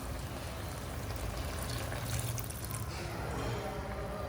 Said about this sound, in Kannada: ಈಗ ಹುಣಸೆಹಣ್ಣು ನೀರು ಹಾಕ್ತಾಯಿದ್ದೀನಿ.